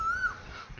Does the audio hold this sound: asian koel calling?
yes